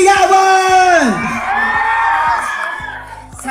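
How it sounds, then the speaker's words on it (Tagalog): A crowd at a Puregold trade event cheers loudly for Paulo Avelino, with sustained whoops and yells rising and falling over a steady roar. "Isang malakas na hiyawan!"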